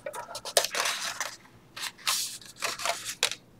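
Scissors snip through paper for a junk journal, giving several crisp cuts in short bursts with pauses between, close and moderately loud, no talking.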